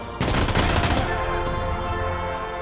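Suppressed VHS-2 rifle in Insurgency Sandstorm firing a rapid automatic burst of about a second, loud and close, followed by a fading mechanical ring.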